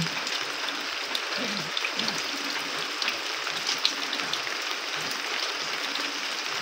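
Heavy early-morning downpour at dawn, a steady dense hiss of rain falling continuously close by, with no talking and no other distinct sounds rising above it.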